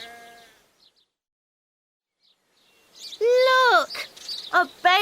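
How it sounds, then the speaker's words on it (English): A young lamb on a farm bleats a few times in short wavering cries after a quiet stretch, preceded by faint bird chirps, loud and close in the final seconds. "It's a baby sheep."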